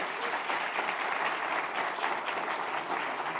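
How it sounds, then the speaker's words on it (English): Audience applauding the panelists after a privacy and security panel discussion, a steady, even burst of crowd clapping at close range with no talk over it. "let's give a round of applause for our panelists"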